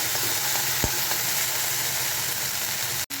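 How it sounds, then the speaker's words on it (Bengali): Okra frying in a pan of oil in a home kitchen, an even, loud continuous sizzle with a faint low hum beneath and no talk. "বসিয়ে দিয়েছি ভেন্ডি ভাজা"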